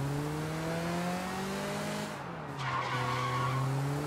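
In the Sleeping Dogs video game a car drifts with a sustained tire squeal over its engine, the pitch sliding and dipping briefly midway before the screech resumes; loud and close, with no talking.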